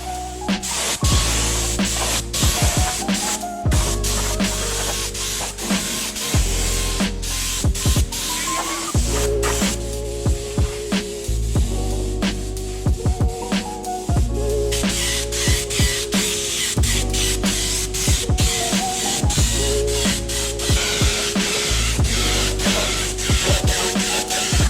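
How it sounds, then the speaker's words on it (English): A spray gun sprays KBS chassis paint in repeated hissing bursts separated by brief pauses, a loud and close sound over steady background music. "it's time to pour it in the spray gun and start painting"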